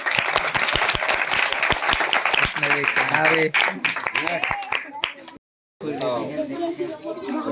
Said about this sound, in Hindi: ताली बजाते हुए जोरदार